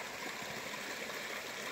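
Brown, peat-stained stream water flowing beside a small stone bridge on the Pennine Way, a steady close rushing wash with no pauses and no voices.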